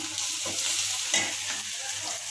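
Ground spices with salt and turmeric sizzle steadily in hot oil while a spoon stirs and scrapes the pan in a few short strokes, close and fairly loud, with no voices.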